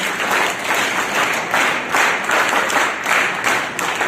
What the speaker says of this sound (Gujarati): ચાલો એમના માટે તાળી પાડ દો એકવાર